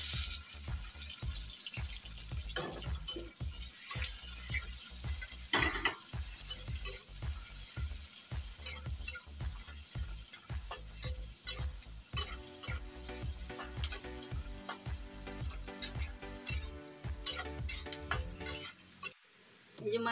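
Onions fry in a pan for chicken curry, a steady sizzle broken by repeated scraping strokes of a spatula stirring, close and fairly quiet.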